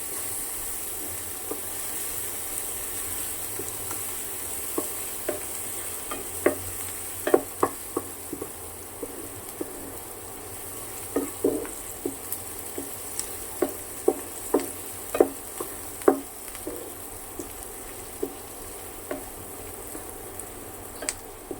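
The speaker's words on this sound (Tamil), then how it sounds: "இப்போது வதங்கினதுக்கப்புறம் நம்ம தக்காளி போடணும். நல்லா வதங்கி வரட்டும்." Onions and tomatoes sauté in a hot pan for malai chicken, giving a steady close sizzle with frequent sharp clicks and taps as a utensil stirs and scrapes through the mixture.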